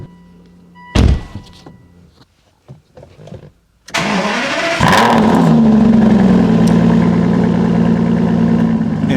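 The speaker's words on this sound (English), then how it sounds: "the last time we are going to hear that exhaust note on a cold startup" An Aston Martin V12 Vantage fires up from cold: a sharp starter thunk, then a loud, steady exhaust roar settling into a high idle, close and without talk.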